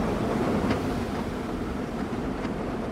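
A tram running along a line in the video game Transport Fever 2, a steady rolling rumble with faint wheel clicks, continuous and moderately loud with no voices.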